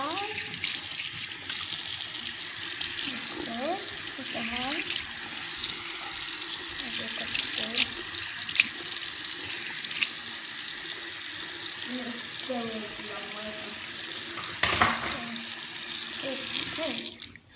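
A tap runs steadily into a sink while paint is washed off something by hand, a continuous close rush of water with faint splashing and brief bumps throughout.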